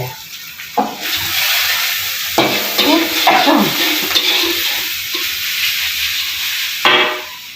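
Goat tongseng made with sacrificial goat meat being stirred and fried in a pan, a steady close sizzle and hiss with scraping stirs, louder bursts near the start and end.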